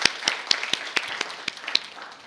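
A church congregation claps in a slow, steady rhythm, about two claps per second, with sharp individual hand strikes fairly close and moderately loud.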